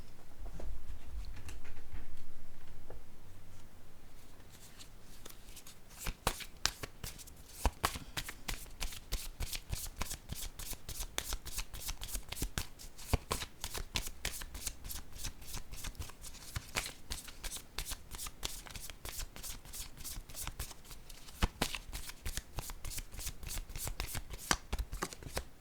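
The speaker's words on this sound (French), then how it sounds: "Je vais piger une autre carte." Tarot cards are shuffled up close in a long, steady run of rapid papery riffles and soft patters that continues without pause after a few quiet seconds of low rumble.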